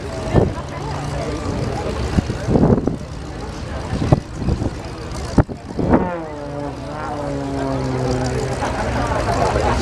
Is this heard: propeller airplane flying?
yes